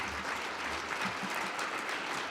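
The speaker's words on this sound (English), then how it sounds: "Let's give him a round of applause as well." An audience at a downtown panel event gives a brief round of applause, steady moderate clapping with a faint murmur underneath.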